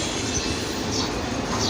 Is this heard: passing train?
yes